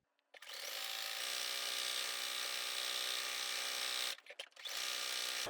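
A Juki DX7 sewing machine runs a wide zigzag stitch on flannel for a baby blanket, a loud, steady mechanical whir that holds for about four seconds, stutters briefly, then resumes.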